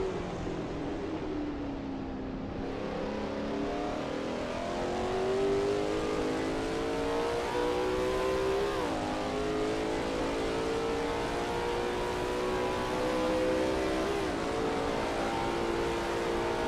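A Lola T70 MkII Spyder race car in a sim racing game at Kyalami '67, its engine droning steadily and loud with rising and falling revs through gear changes, heard alone without any voices.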